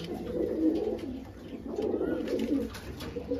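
Madras pigeons coo steadily and softly at close range, a continuous low, throaty burbling with no talk.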